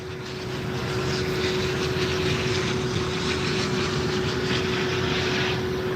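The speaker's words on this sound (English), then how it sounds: "I'm just making sure the plane ain't doing nothing crazy." Propeller airplane passing overhead outdoors, a steady loud drone of engine and airscrew holding for the full few seconds with no voices over it.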